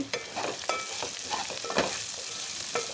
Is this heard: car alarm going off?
no